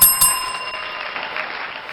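A handheld bell rung in celebration during a live keto Q&A: two quick bright rings at the start, then a fading tail under a murmur of room noise.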